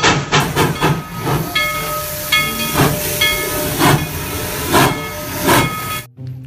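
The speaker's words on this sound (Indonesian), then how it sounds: "Lihat, ada kereta Thomas teman-teman." Toy Thomas the Tank Engine steam train chuffing with rhythmic hissing bursts and a mechanical clatter, fairly close and steady, ending in a sudden stop.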